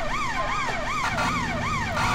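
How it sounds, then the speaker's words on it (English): A police siren in the LCPDFR video game, fitted to an Essex Police Mitsubishi Evo 10, wailing in a fast rising-and-falling cycle, loud and close over a low engine hum with no talk. "Turn the sirens off"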